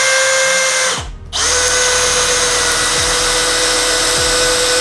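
A Bosch GSB 185-LI cordless drill driving a screw, a loud steady whirring motor with a brief dip in pitch near the start as it bites, then running on evenly and close.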